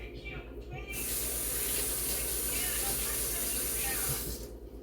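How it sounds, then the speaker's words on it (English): Water runs steadily from a tap as hands are rinsed beneath it, a close, continuous hissing splash lasting a few seconds before it stops. "I gotta rinse my hands."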